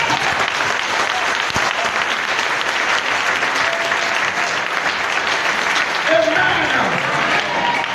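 A church congregation at an evangelical service claps steadily and loudly for several seconds, a dense continuous wash of applause with faint voices rising near the end.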